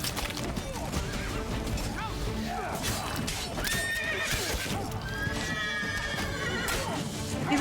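A horse in The Witcher 3: Blood and Wine neighs and whinnies loudly over hoofbeat clip-clops amid busy game sounds, with voices talking throughout.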